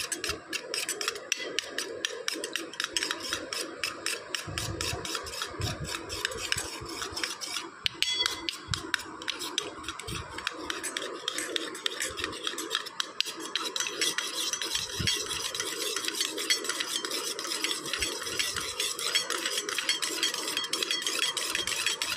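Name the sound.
beating curd (yogurt) in a bowl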